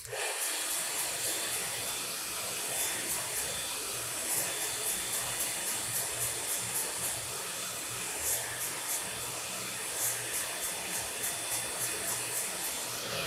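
A hair dryer blows with a steady, loud airy roar throughout, its hiss fluttering slightly as it moves, with no voices.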